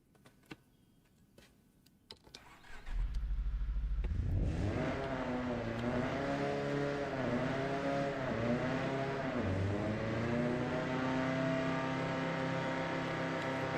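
A car's engine in the Apex Point racing game revs up on a dyno after a few quiet clicks, then holds a loud, sustained roar with rising and falling sweeps in pitch.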